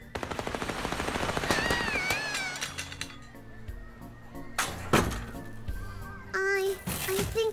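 Rapid bursts of gunfire crack from a carnival shooting gallery gun loaded with real bullets in a video game, a fast rattling volley then scattered sharp shots and impacts, with game voices and squeaky cartoonish sounds overlapping.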